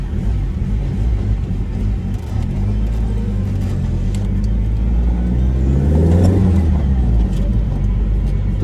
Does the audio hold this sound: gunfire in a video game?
no